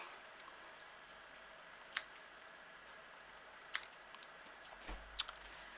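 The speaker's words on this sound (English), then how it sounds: "I'm just going to snip off the edges of the sentiment because we don't need them that long" Scissors snip the edges of a paper card sentiment: three or four small, crisp cuts spaced a couple of seconds apart in a quiet room.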